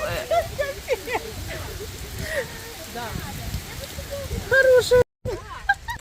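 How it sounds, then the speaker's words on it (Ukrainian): Steady rain hisses across a Kyiv street scene while people talk over it throughout, the patter constant and moderately loud. "Под дождем."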